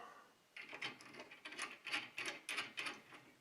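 Nuts are threaded onto bolts of a tow-behind aerator, a quiet rapid series of metallic ratcheting clicks and spins close by, with no voices.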